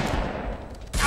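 Shotgun blasts and gunfire in the zombie shooter A Game Of Infection, a dense, loud burst of shots packed close together with a fresh blast right at the end.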